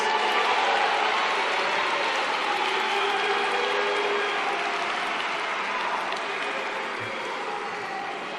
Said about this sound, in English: And let us give them a big round of applause.